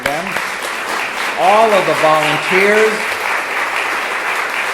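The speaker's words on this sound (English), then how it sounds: "A round of applause for them." Audience at a refugee resettlement organization's World Refugee Day celebration applauding steadily, a continuous bed of clapping under a speaker's voice that talks over it.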